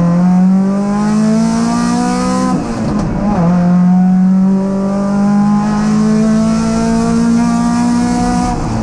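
A Triumph TR7 sprint race car roars around the Sandown circuit during a state race, its engine droning loudly and steadily with rising and falling revs and a brief gear-change dip, heard close from on board.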